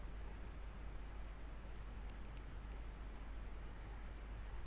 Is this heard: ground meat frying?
no